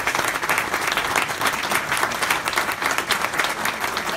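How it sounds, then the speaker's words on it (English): Sustained audience applause at a university tech talk on AI and computer vision, dense steady clapping from a crowd filling the whole stretch at an even loudness with no talk over it. "A round of applause for everybody."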